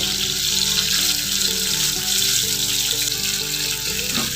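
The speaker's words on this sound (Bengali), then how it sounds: "আমার মাছ ভাজাটা হয়ে গিয়েছে" Fish fries in hot oil in a pan, a steady dense sizzle and crackle filling the whole stretch, loud and close with no talk, while a tonal background hum runs underneath.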